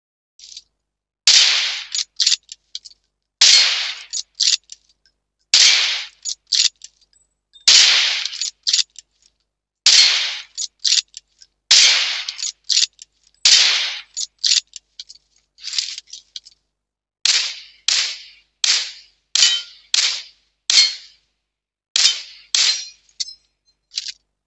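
Gunfire from the PUBG video game plays through Ronin Glaze R-7145 earbuds as sharp, thin, clicky shots in short repeated bursts with brief silences between volleys, continuing steadily throughout.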